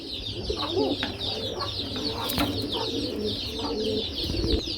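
Pigeons in a breeding pen coo in low, rolling calls that repeat over a constant hiss of background noise, moderately close, with other birds faintly audible.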